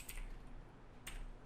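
Keys on a computer keyboard are struck in two short bursts of clicky taps, separated by a brief pause, close and fairly quiet.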